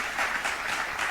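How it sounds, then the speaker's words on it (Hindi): Steady broadband applause from an audience cheering children after a karate class performance, continuous clapping throughout the short stretch at moderate loudness with no distinct talk. "चलिए जोरदार तालियां बजा दीजिए बच्चों के लिए"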